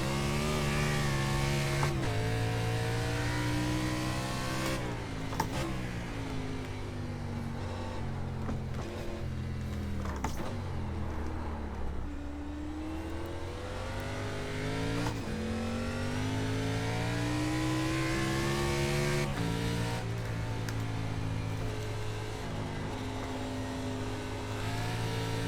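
A stock car engine revs hard on the Barber race track, its pitch rising and falling through gear changes and corners, loud and continuous from inside the car.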